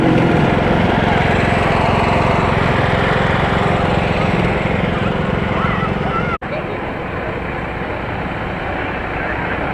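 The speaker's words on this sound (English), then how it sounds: "There's a mower that's working." Riding lawn mower running in a Fourth of July town parade, a loud, steady engine drone close by that holds constant, briefly dips and then continues slightly quieter.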